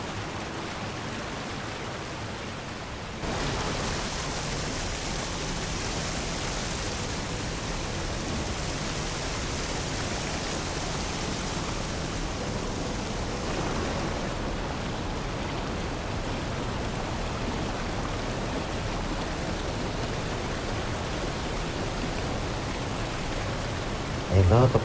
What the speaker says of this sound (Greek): το μόνο που ακούς είναι το τρέξιμο του νερού